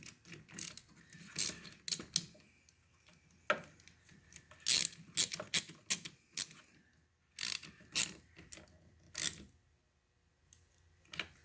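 A hand ratchet tightens a car battery terminal clamp onto its post during a battery replacement, giving off bursts of close, crisp clicking strokes separated by short pauses, with no one talking.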